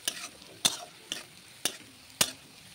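Raisins fry in hot oil for a kajure sitol fish gravy, a soft sizzle punctuated by five sharp, evenly spaced spatters or stirring clicks, close and fairly quiet.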